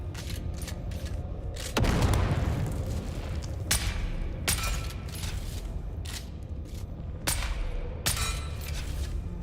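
A grenade goes off in an online shooter game, a loud low boom swelling up and decaying, set amid ongoing sharp bursts and impacts of combat around it.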